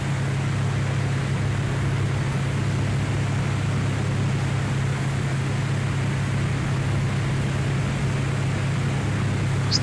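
Steady, unbroken drone of a propeller aircraft engine in the X-Plane 11 flight simulator, flying from Newcastle to Edinburgh with the RPM brought down and the mixture leaned, holding a constant low hum and airy noise throughout.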